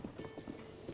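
A horse's hooves clip-clop in a quick, uneven rhythm of hollow knocks at moderate distance, with no one speaking.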